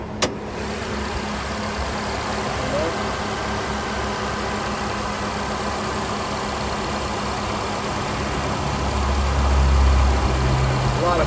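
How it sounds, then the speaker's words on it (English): Continuous road traffic hums nearby with passing vehicles and a steady engine drone, growing slightly louder toward the end. "A lot of background noise, guys. A lot of traffic today."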